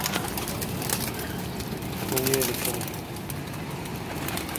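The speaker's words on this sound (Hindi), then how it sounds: "ये देखें जी दोस्तों, माशाल्लाह अच्छा कबूतर है।" A pigeon held in someone's hand gives a single brief, soft coo over a steady background hiss, and someone speaks briefly.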